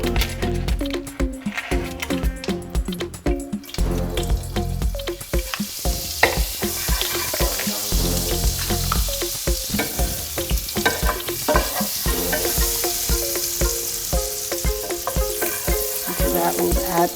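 Oil and butter sizzle in a hot pan, a bright continuous hiss that swells after the first few seconds and runs beneath loud background music, with no speech.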